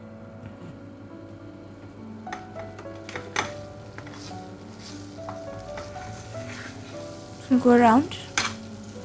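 Masala eggs sizzle and crackle steadily in a hot pan, with a scraping stir and a few clicks. A person speaks briefly near the end.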